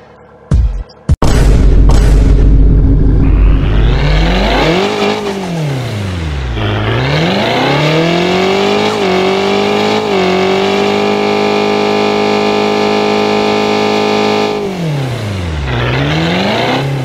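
A car engine in the Car Parking Multiplayer video game starts with booms, then revs repeatedly, its pitch sweeping up and down between loud rises and idle dips, close and alone.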